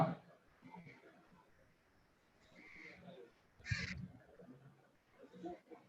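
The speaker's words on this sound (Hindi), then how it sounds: "फिर कौवा बोल रहा है यार" A crow caws faintly in the background during an indoor chemistry lecture, with a few short calls scattered under the teacher's talking.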